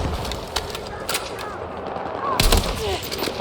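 Battlefield 6 battle gunfire, sharp cracking shots and bursts over a dense roar of combat, with a louder close volley near the end and faint whistling streaks, no speech.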